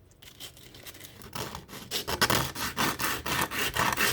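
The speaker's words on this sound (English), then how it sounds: "All you gotta do is just grab some sandpaper, take apart your Goatguns," Sandpaper is rubbed over a Goatguns SVD model rifle in rhythmic back-and-forth strokes, starting soft and growing louder and more insistent, each scrape close and raspy.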